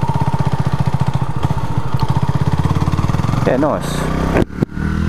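Honda CB250RS motorcycle engine revs hard with a steady rapid pulse that builds, then shifts and drops, heard close from the rider's seat with brief speech over it.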